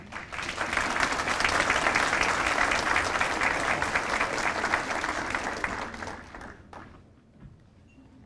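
Loud, sustained audience applause at a 2003 ATU Hall of Distinction award ceremony as Travis Adams is welcomed, a dense wash of clapping that holds steady for about six seconds before thinning and fading near the end.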